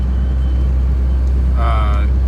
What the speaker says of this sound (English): You can't take from the sound of a diesel truck when you're driving it.